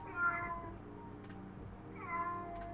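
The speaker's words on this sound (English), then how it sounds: "Hey Google, how does a cat sound like?" Two recorded cat meows played through a Google Home smart speaker, each a short drawn-out call about two seconds apart, faint against a quiet room hum.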